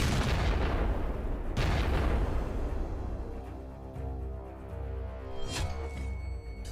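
Drone explosions at sea on the Black Sea, heavy booming blasts with a rolling rumble, two big detonations early followed by sustained low roar and a sharp crack near the end, no voices.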